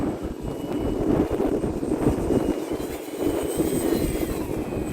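An Arrows Husky Ultimate RC airplane flies in gusty wind, its motor droning steadily with uneven surges, mixed with buffeting wind noise on the microphone and no talk.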